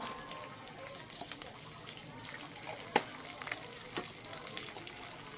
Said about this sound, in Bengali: এর মধ্যে আমি গোটা তেজপাতা চিড়ে দিয়ে দিলাম আর একটু জিরে ফোড়ন দেব